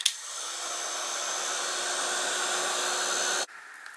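A hair dryer blows steadily on a wet watercolor card, a loud continuous airy whir running for about three and a half seconds before switching off abruptly.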